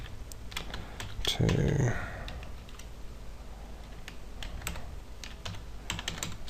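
Slow typing on a computer keyboard, scattered light clicks in uneven bursts, close and faint, with a short spoken word partway through.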